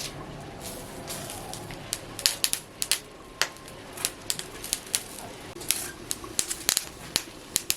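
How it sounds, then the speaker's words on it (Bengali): Neem leaves dry-roasting in a dry pan in a village kitchen give a steady low sizzle. Sharp scattered crackles and pops rise above it throughout, with no talking. "নিম পাতাগুলো একটু সেঁকে নেব।"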